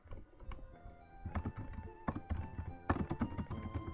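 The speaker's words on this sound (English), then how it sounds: "Probably hear me typing." Keys clatter in quick irregular bursts of typing, crisp and close, with brief pauses between flurries.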